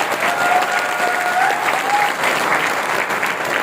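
An audience at a Winfinith Grand CTP business event claps loudly for themselves, a dense, sustained burst of applause that fills the hall without letup.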